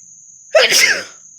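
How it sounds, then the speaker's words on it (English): A single loud, close sneeze bursts out against near silence and fades within half a second. "was about to sneeze"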